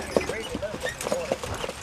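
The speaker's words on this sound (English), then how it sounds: "Look at those horses." Horses pulling a carriage ride clip-clop their hooves in a quick, uneven rhythm close by, with people talking over them.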